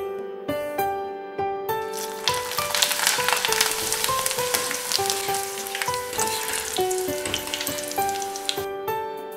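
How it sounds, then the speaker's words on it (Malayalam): Dried chundanga kondattam deep-frying in hot oil gives a steady, dense crackling sizzle throughout, close and fairly loud, with faint musical tones underneath and no talking. "ഇനി ഇതൊന്ന് വറുത്തെടുക്കാൻ പോവാണ്."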